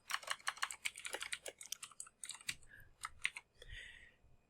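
Typing on a computer keyboard, a quick irregular run of close, crisp key clicks with brief pauses, faint and alone.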